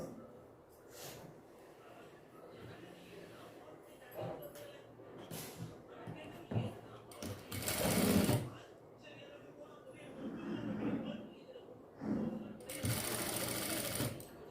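Sewing machine stitching a small doll dress, running in short bursts of rapid needle chatter separated by pauses, fairly close, with someone talking between and over the runs.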